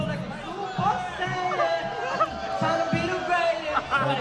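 Club audience at Miami's Club Live booing the performers on stage: a dense, continuous crowd roar of overlapping voices and jeers, loud and sustained throughout with no single voice standing out.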